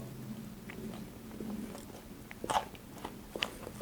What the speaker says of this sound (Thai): เดี๋ยวชิมก่อนนะครับแตงกวาจะยังกรอบ